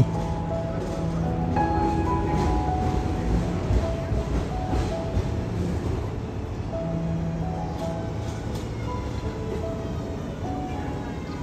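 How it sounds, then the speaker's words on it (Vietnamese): Steady rumble of Melbourne's number 35 City Circle electric tram rolling along rails, with low mechanical drone and occasional squeals and clunks, continuous throughout. "Bây giờ mình sẽ đón chuyến tàu điện tram số 35 City Circle để đi vòng quanh khu CBD."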